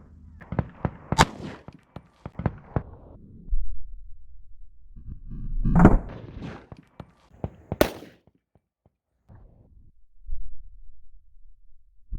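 A short-barrel Glock 33 fires .357 SIG into ballistic gel from 15 feet, several sharp, loud reports spaced irregularly through outdoor quiet, with rumbling handling noise in between.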